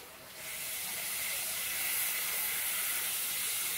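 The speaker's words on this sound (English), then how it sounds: "It's kind of like one of those pump sprayer wands, but it's a constant." Plumbed water sprayer wand used for pac-man frog care, giving a constant fine hissing spray that swells in after a moment and stays steady and close.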